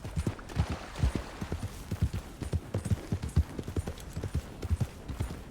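Horse hooves clip-clop at a steady trotting rhythm in Red Dead Redemption 2, close and fairly quiet, with no talk over them.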